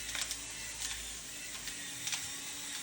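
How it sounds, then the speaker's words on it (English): A small, fancy pepper grinder cranks in quick ratcheting bursts, its crisp mechanical clicks repeating several times close by in a home kitchen during Alfredo preparation, alone and without talk. "Fancy little pepper grinder here."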